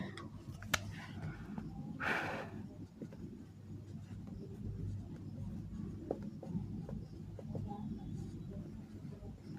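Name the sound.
writing notes during a lesson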